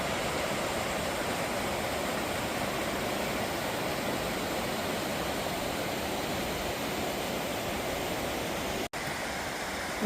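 A creek flows in a steady, broadband wash, with no gaps or changes for the whole stretch and no voices.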